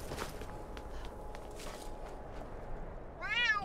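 A cat in Skyrim gives a short, rising meow near the end, following faint footsteps and quiet background ambience.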